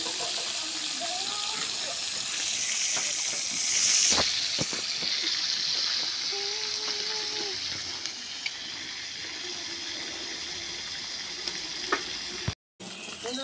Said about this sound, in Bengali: এখন তেল দিব মাছ ভাজার জন্য